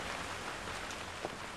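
Steady rainfall in the horror game Emily Wants to Play, a constant soft hiss of drops heard alone, with one faint tap near the end.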